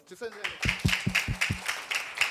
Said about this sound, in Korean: 우리 한 번 더 박수 칠 텐데 이번에는 우리 친구들이 박수 세게 칠 수 있죠